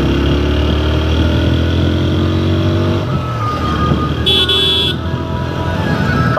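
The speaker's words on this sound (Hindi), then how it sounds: "बाइक का हॉर्न भी काफी अच्छा है।" A 2024 TVS Apache RTR 160 4V motorcycle gives one short, bright honk of its horn partway through, heard close over the steady hum of its running engine and passing road noise.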